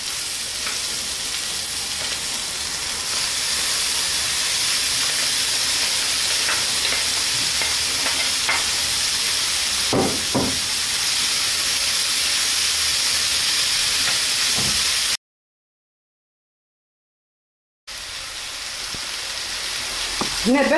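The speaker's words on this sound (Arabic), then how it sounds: "هنا بعد ما تقلي شويه اللحم المفروم تاعك" Minced meat fries in a pan for tacos with a steady, close sizzle and hiss, broken by a few scraping stirs and a short silent gap before the sizzling resumes.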